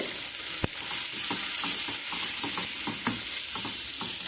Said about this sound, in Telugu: ఆనియన్స్ వేగిపోయి ఈ ఆనియన్స్ వేగిన చూడండి, ఇలా వేగిపోవాలండి ఆనియన్స్.